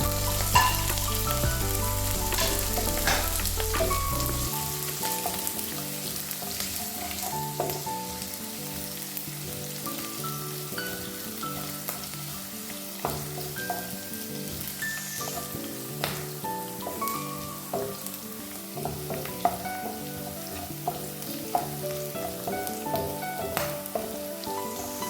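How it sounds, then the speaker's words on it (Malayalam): Ginger, garlic and green chili frying in oil in a pan for a watermelon rind pickle, a steady close sizzle with intermittent scrapes and clinks of stirring, no talking. "അപ്പോൾ നമ്മളെ ഇഞ്ചിയും വെളുത്തുള്ളിയും പച്ചമുളകൊക്കെ നന്നായി മൂത്ത് വന്നിട്ടുണ്ട്."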